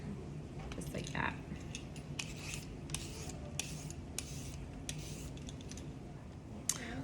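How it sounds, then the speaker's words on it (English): Carrots grated by hand on a kitchen grater, scattered scratchy rasping strokes with soft clicks and taps, close and fairly quiet, irregular in rhythm. "I'm going to continue to grate the carrots"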